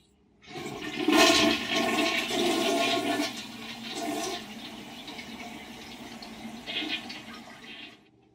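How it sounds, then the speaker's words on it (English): A toilet flushes up close with a loud rushing gush of water that settles into a softer refilling trickle before stopping. "And don't forget to flush."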